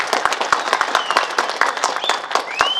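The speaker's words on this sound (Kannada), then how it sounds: "ಇದಕ್ಕೆ ನೀವು ಚಪ್ಪಾಳೆ ಹೊಡಿಬೇಕು." An audience applauds at a public speech, with dense claps scattered in an uneven rhythm and a murmur of crowd voices beneath.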